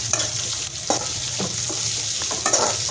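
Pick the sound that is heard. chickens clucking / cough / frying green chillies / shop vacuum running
frying green chillies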